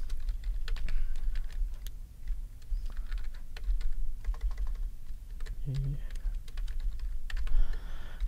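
Rapid, irregular clicking of keys on a computer keyboard, close by and continuous, with brief pauses between bursts.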